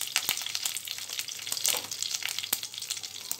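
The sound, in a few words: curry leaves sizzling as they are added to hot oil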